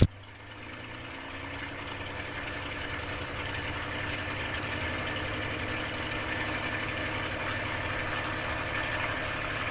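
A TF-51 Mustang aircraft engine idles at about 1500 RPM while warming up before takeoff, a steady, close, throbbing drone that settles in after a brief start and holds even throughout with no voices.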